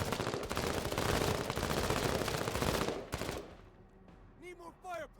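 Sustained, loud burst of rapid machine-gun fire from the video game Menace, lasting about three seconds before fading into softer background game audio with a voice speaking.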